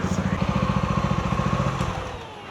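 A motorcycle engine runs at a steady idle close by, with an even throbbing pulse that fades slightly toward the end.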